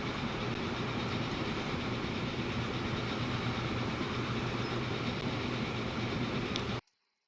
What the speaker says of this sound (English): We see the trains here moving